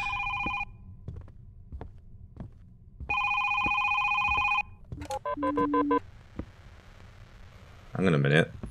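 An electronic telephone in the horror game Is Simon There? rings in two repeated bursts, followed by a higher chiming tone and a short voiced sound, with soft knocks and ambience between rings.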